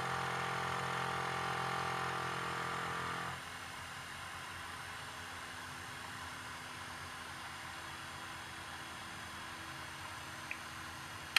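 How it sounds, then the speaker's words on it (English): A small battery-powered motor run from a lead acid battery hums steadily and fairly quietly, then drops abruptly to a weaker, lower whir as the voltage falls and keeps running faintly to the end. "Motor's slowing down."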